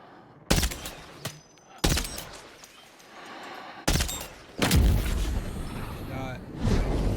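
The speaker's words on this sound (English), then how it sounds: "Look at this shooting, baby." Gunfire in the video game Death Stranding 2 comes in several sharp, loud bursts and booms, some rapid volleys with echoing tails, spaced unevenly over a few seconds.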